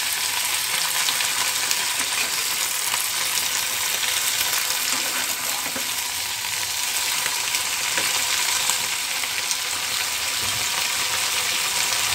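Garlic sizzles steadily in hot oil in a pan for a breakfast of fried beans and paratha, a continuous close frying hiss with faint crackles and no talking.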